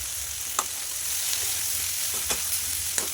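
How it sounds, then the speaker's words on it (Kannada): Eggplant palya with masala and salt frying in a pan, a steady loud hiss of sizzling oil throughout, with occasional brief spatula taps as it is stirred, no talking. "ಉಪ್ಪು ಹಾಕ್ಕೊಂಡು ಸ್ವಲ್ಪ ಹಾಗೆ ಫ್ರೈ ಮಾಡಿ ಎಲ್ಲನೂ ಮಿಕ್ಸ್ ಮಾಡ್ಕೊಳ್ಳಿ"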